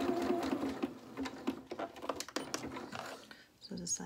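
A domestic sewing machine runs in short, quick bursts of rapid stitching while neatening the seam of a jersey T-shirt dress, with faint clicks between runs and a voice talking over parts of it.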